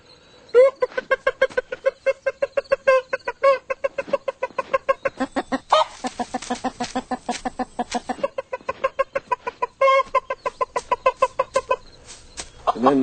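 A rooster calls a hen over to food with rapid, rhythmic clucking that repeats in steady pulses throughout, close and clear.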